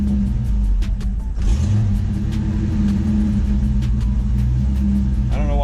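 A 1985 Ford Mustang LX 5.0 with throttle body injection idles roughly, its low engine rumble steady and close with slight surging, while faint ticks and a brief rising whine come through near the end.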